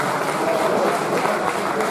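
Brief burst of audience applause at a singing contest in Orune, Sardinia, a steady wash of clapping lasting about two seconds.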